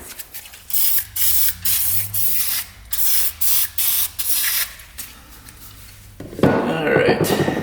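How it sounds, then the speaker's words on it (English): WD-40 sprays in a series of short hissing bursts onto old motorcycle parts that sat for 33 years, about nine quick, evenly spaced blasts, followed by a clattering of metal handling. "Just gonna spray a little WD-40 in there."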